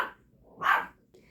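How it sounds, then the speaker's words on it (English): A dog barking down the street, with a couple of sharp distant barks separated by short quiet gaps, moderately faint and heard over a quiet room. "There's another dog barking"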